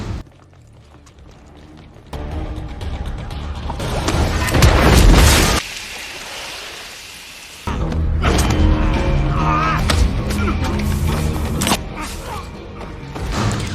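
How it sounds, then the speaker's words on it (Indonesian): Grenade blowing up inside a well in a movie sound effect: a deep, loud boom with a rumbling burst that cuts off abruptly, surrounded by dense, steady cinematic sound and rumble. "Sierra Sik yang ada di dalam sumur mempersiapkan granat untuk meledakkan sumur tersebut"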